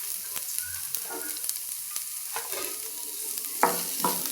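A spatula stirs carrot and onion sizzling in a pan for egg semiya, making repeated scraping strokes over a light frying hiss, with a louder scrape near the end and no talking.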